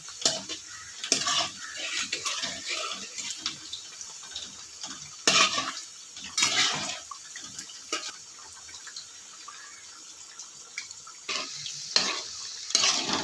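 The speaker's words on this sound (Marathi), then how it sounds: "वड्या सर्व बाजूने एकसारख्या तळल्या जाव्यात म्हणून असं उलातनाच्या साह्याने गोल आकारात तेल फिरवत राहायचं" Cabbage vadi frying in hot oil as the oil is swirled around them with a spatula, a soft continuous bubbling sizzle punctuated by occasional clinks and scrapes of metal against the pan, with no speech.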